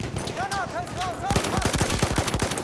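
Rapid bursts of Battlefield 1 gunfire on PS4, loud and close, follow a short stretch where a voice talks over fainter shots.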